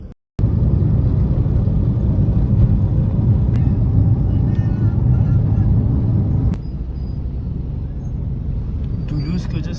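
A car drives along a city road, heard from inside the cabin as a steady low rumble after a door thud, settling quieter partway through.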